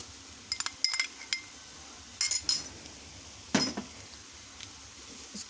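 Metal utensils clink sharply against a cooking pan as ginger garlic paste goes in with fried onions for masala egg fry, giving scattered light taps and scrapes over a quiet background.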